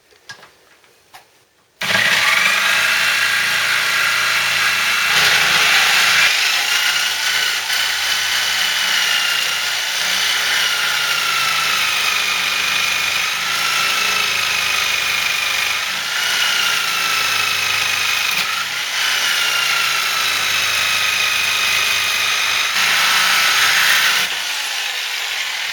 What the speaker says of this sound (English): Jigsaws a lot quieter than a disc and a lot cheaper on blades.